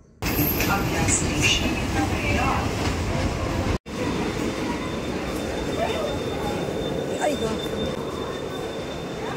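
Virar fast local train pulling into Virar station, a loud continuous rolling rumble with faint wheel squeals and rattles, a short break partway through, and voices murmuring underneath.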